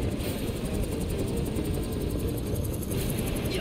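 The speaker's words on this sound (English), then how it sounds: "The chopper, the chopper." A helicopter in the Kingdom Hearts 3 video game drones with a steady, low rotor rumble and rapid chopping pulse, loud and continuous throughout with no voices over it.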